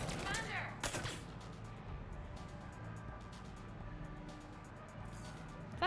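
Gunfire in the Mass Effect Legendary Edition video game: a couple of sharp shots near the start, followed by scattered faint pops and clicks under low background rumble, with a voice briefly heard.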